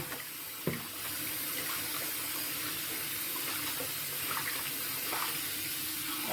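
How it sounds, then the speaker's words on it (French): Cold tap water running steadily into a sink while a wig is being washed, a constant hiss of flow with a small knock early on, moderately close and without talk. "J'ajoute un peu d'eau froide."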